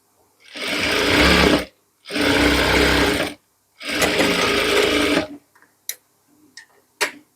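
An electric sewing machine stitches a sanitary pouch in three long, loud, steady runs of about a second each, separated by short pauses, then a few faint clicks and taps as the fabric is handled.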